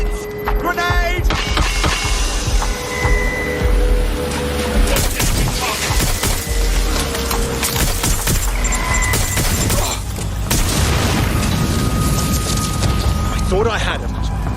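Heavy, booming blasts and clattering debris from a grenade explosion in the video game Watch Dogs: Legion, loud and continuous under frequent shouted speech.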